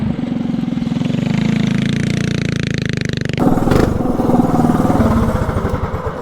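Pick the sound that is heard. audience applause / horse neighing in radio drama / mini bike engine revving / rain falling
mini bike engine revving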